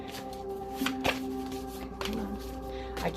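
Tarot cards shuffled by hand nearby, a steady papery rustle with a few sharper riffling flicks recurring about once a second under a constant low hum.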